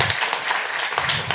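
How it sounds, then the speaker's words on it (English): Audience applause at a meeting, a short burst of dense, fairly loud clapping that fills the moment without voices. "So let's give them an applause."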